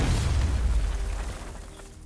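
Explosive gel detonating in Batman: Arkham Knight at Ace Chemicals, a single loud, deep boom that swells at once and then fades away through a rumbling tail.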